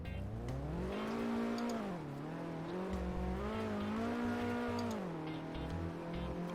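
Simulated car engine from an ACF vehicle build in Garry's Mod, droning loudly and steadily with a rising and falling pitch as it revs up and eases back, heard alone.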